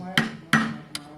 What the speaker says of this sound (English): When all else fails, get the big hammer.